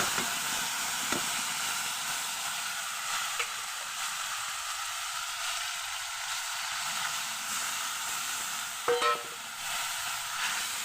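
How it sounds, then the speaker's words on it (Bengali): Turmeric, dried chili, cumin and ginger paste frying in hot oil, a loud, steady hiss with a few brief clinks of stirring, close up and without voices. "হলুদ গুঁড়ো শুকনো লঙ্কা বাটা জিরে বাটা আর আদা বাটা আমি তেলের মধ্যে দিয়ে দিলাম"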